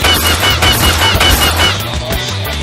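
Loud, fast automatic gunfire from Call of Duty Mobile fills the short clip, a steady rattling stream of shots heard up close with no talking.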